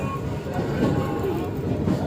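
Steady low rumble and rattle of a moving passenger train heard from inside the carriage, continuous and fairly loud, with voices talking over it.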